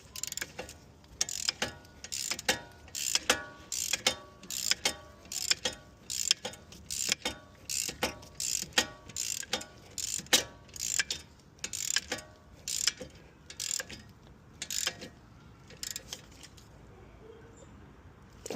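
A ratchet wrench tightens a bolt on the front brake of a 1996-2001 Toyota Camry during a pad and rotor job, giving sharp repeated clicking bursts in a steady rhythm, close and fairly quiet, with no talk.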